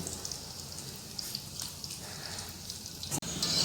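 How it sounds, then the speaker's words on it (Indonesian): Tempeh frying in hot oil gives off a steady, fine crackling sizzle that carries on evenly at a moderate level, with no talking over it. "Oke, kita masukkan tempenya. Kita goreng sampai garing ya teman-teman"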